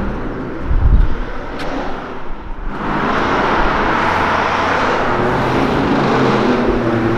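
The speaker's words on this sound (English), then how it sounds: "I wasn't sure if it was the Porsche or which one was making all that racket" A Porsche passing along a town street in Hamilton, Ohio, its engine building to a loud, sustained roar that fills the street, close and dominant over the traffic noise.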